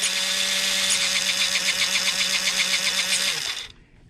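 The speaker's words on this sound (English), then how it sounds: "You could hear it binding up a little bit." Motor and gear whine of an upgraded Fayee FY003-1 RC truck as it drives and steers, with the steering binding slightly; a steady, loud mechanical buzz that runs continuously for over three seconds, then cuts off abruptly.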